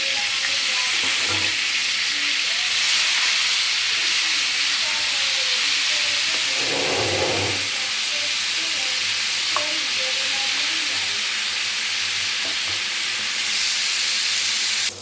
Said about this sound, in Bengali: খুব ভালোভাবে আলুটা কিন্তু ভেজে নিতে হবে যখন দেখবো আলুগুলো থার্টি পার্সেন্টের মতো ভাজা হয়ে গেছে তখন দিয়ে দেব কেটে রাখা বরবটিগুলো